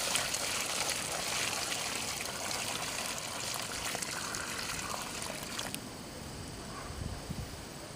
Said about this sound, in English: Start by adding a few gallons of water.